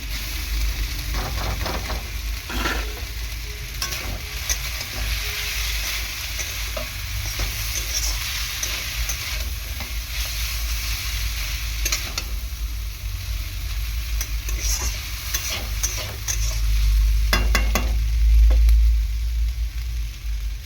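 Drained Maggi noodles being stir-fried in a hot pan, a steady sizzle broken by repeated scraping and clattering stir strokes, close and alone, swelling louder toward the end.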